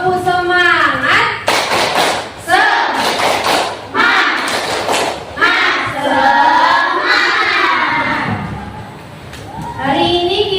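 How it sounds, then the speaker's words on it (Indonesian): Schoolchildren in an Indonesian classroom perform a rhythmic spirit clap, bursts of hand claps and thumps mixed with loud shouted chanting voices, close and lively, with a teacher's voice between. "Coba tepuk semangat dulu"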